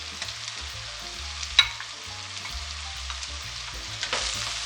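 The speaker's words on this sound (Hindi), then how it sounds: "एक से 2 मिनट के लिए हम लहसुन और अदरक को पकाएंगे इसके साथ" Ginger and garlic fry with softened onions in a pot, giving a steady close sizzle with a low background hum and one sharp clink partway through.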